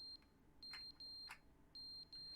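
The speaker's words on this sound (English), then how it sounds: "Smoke alarm?" Smoke alarm in The Stanley Parable: Ultra Deluxe game, faint high electronic beeps repeating in short pulses with brief gaps, quiet and steady against a low background hum.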